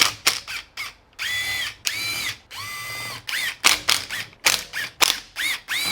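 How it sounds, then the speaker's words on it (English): Hand ratchet loosening engine case bolts on a Supermini engine, with rapid metallic clicking in repeated short bursts separated by brief pauses, close and clear. "Use a hand tool, ratchet, T-handle, loosen case bolts and stuff."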